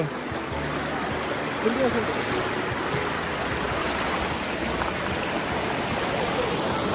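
River water rushing steadily near the Dubare Elephant Camp in Coorg as people wade across, a constant close broadband wash with no clear pauses.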